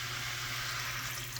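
Water being poured into a cooking pot, a steady rushing, hissing stream that runs unbroken for the whole brief moment, close and fairly soft.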